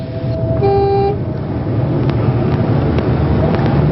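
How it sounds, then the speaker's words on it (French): Horn of a voice-controlled Renault R5 prototype adapted for a disabled driver sounds one short steady blast, loud and close, over a continuous engine and road rumble. "Klaxon."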